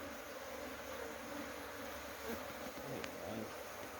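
Honey bees buzz around an open beehive during an inspection, a soft, steady drone close by with faint individual bees passing, quiet and continuous.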